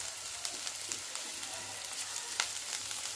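Chopped green chilies fry in oil for momos, giving a steady close sizzle with light crackles and faint stirring, and no one talks.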